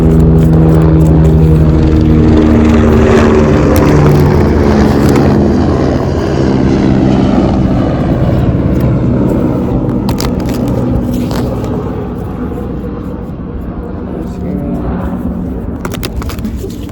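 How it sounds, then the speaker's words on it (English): A helicopter's loud low rumbling drone passes close overhead, then gradually fades and recedes into the distance. "I'm trying to let it pass. That was a helicopter,"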